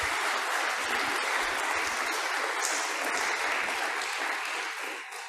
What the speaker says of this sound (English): So one more round of applause for Hugh